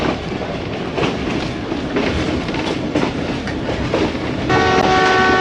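Interior of the Ravi Express moving along a branch line, with a loud continuous rumble and rattle of the carriage and a brief tonal horn-like sound near the end.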